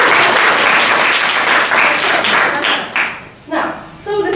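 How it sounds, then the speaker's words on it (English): Schoolchildren clap together in a classroom during a water cycle lesson, a loud dense burst that thins out into a few scattered claps and voices toward the end. "Amazing, big clap."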